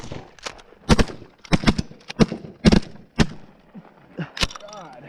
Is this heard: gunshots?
yes